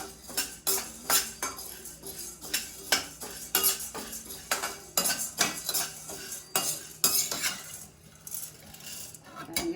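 Idli podi ingredients being dry roasted in a pan, a close, repeated scraping and clinking of a utensil stirring against the metal in an uneven rhythm, without any talking.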